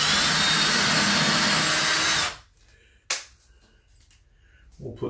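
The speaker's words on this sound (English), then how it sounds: "put 2 pilot holes down through here." A power drill bores pilot holes through a wall mount bracket brace, running loud and close for about two seconds before stopping, followed by a sharp click and quiet handling noises.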